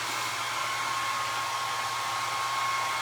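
A hair dryer blowing steadily to dry paint on a Dollar Tree skeleton sconce, a constant close whooshing roar with a faint high whine, unbroken throughout.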